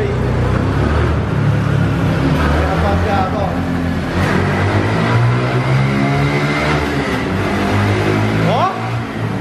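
A Honda Fan motorcycle, parked for five months, runs with a steady low engine drone and rough mechanical noise throughout, while people talk over it.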